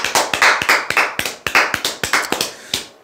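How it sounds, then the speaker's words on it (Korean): Several people clap during a lecture on insurance telemarketing: quick, sharp, fairly close claps in an uneven rhythm that lasts about three seconds and then stops. No one speaks. "박수."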